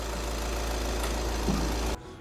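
A 2015 Volkswagen Beetle with the 2.0 TDI diesel engine idles close by, giving a steady low rumble with a slight knock that cuts off abruptly near the end.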